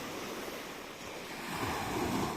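Sea waves wash steadily onto a bay shore on the ocean coast, a continuous close rush of surf mixed with wind noise and no voices.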